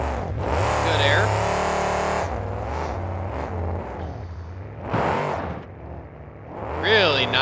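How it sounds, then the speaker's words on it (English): A monster truck's engine roars loudly as it wheelies up and over a ramp on concrete at a Stafford Speedway monster truck show, surging and revving in bursts, with a rising whine near the end and an announcer talking over it. "Really nice wheelie up and over the ramp"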